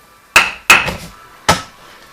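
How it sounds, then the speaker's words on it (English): A big hammer striking leather during leather modelling, three sharp separate blows with short ringing decays, loud and close in an otherwise quiet room. "I can use any kind of hammer. I'm going to use this big one to begin with."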